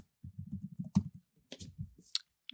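Rapid close clicking of keys on a computer keyboard, short bursts of typing separated by brief pauses, crisp and fairly quiet in a still room.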